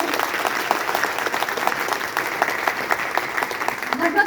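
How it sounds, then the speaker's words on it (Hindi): Audience applause at a Vestige gathering, steady dense clapping from many hands, fairly close and continuous for a few seconds with a faint murmur of voices beneath. "जोरदार तालियों से धन्यवाद करें।"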